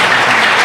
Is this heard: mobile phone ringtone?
no